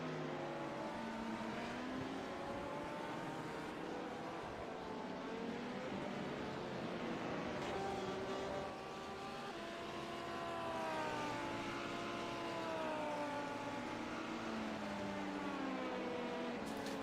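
LMP2 prototype race cars passing during an iRacing 12 Hours of Sebring endurance race: several engine notes rise and fall as the cars sweep by over a steady drone, moderately distant, with no talk.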